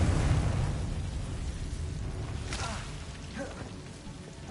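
A Confringo spell fires in Hogwarts Legacy, a fiery burst with a crackling, rushing blast that fades into softer popping debris, with no voices heard.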